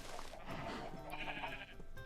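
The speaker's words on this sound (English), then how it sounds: "I'm trying to get about 16 sheep." Several sheep bleat in Minecraft, short wavering calls repeating over a steady bed of game sound, fairly close and with no talking.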